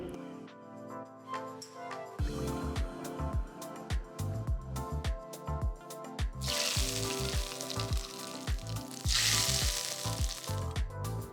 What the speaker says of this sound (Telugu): ఆ తర్వాత పొయ్యి కట్టేసి తయారు చేసిన తాలింపుని పప్పు పైన వేయాలి